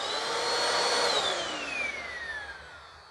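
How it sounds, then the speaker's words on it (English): A Bissell Powerlifter Swivel Rewind Pet 2259 upright vacuum, about six years old, runs with a steady, loud motor whine whose pitch slowly drops as it winds down, with no talking. "how bad is the motor going to sound?"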